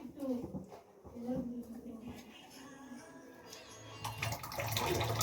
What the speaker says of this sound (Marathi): आता मी ह्याला धुवून घेते.